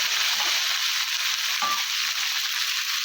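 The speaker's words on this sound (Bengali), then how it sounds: "মশলা ভাজা দিলাম" Ground cumin and chilli spice paste fries in a pan, giving a steady close hiss of sizzling oil with one brief clink midway.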